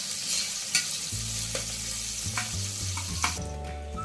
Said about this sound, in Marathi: त्यानंतर आपण त्यात कापलेला कांदा घालून घेऊ। कांदा छान असा परतू द्या।